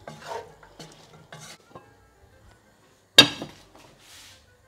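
Potatoes and cauliflower stirred in a pot of boiling water, with a few soft scraping stirs near the start, a sharp loud clatter partway through, then quieter scrapes, close up with no talking.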